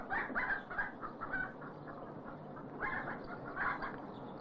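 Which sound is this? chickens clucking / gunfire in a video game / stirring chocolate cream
chickens clucking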